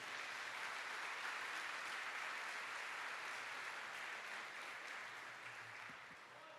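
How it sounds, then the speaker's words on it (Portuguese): A church congregation applauds together at a Sunday service, a steady wash of clapping that carries on throughout and softens slightly toward the end, heard at moderate distance without speech. "aplauda bem forte a palavra de Deus"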